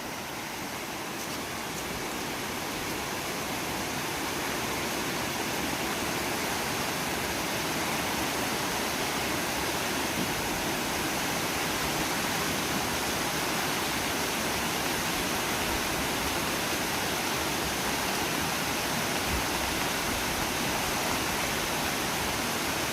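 A flooded river in Konkan during a major flood, a dense broadband roar of rushing water, loud and unbroken throughout with no voices.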